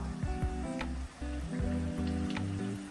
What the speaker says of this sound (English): So now I'm gonna add my coconut milk to my broth.